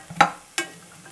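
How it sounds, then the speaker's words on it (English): Beans sizzling in a nonstick Green Pan as they are stirred, heard as two short, sharp scraping bursts of frying hiss separated by a quieter sizzle, close and clear with no voices. "So now this is starting to sizzle, and so I'm just going to give this a little bit of a stir."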